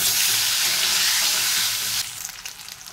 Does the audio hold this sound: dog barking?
no